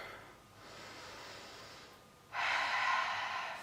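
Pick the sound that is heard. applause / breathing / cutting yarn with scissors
breathing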